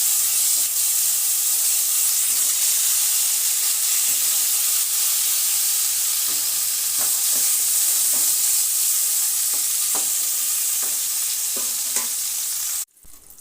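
Eggplant slices fry in oil in a pan, a loud continuous sizzle and hiss with occasional light taps of a utensil, no voices, ending abruptly.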